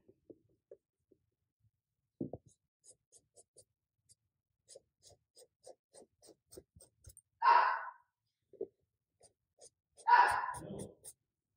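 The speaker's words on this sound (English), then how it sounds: "it's a day for the dogs to bark" Dogs bark twice outdoors, short and fairly distant, several seconds apart, over the quiet scratching and dabbing of a brush painting a Christmas sweatshirt indoors.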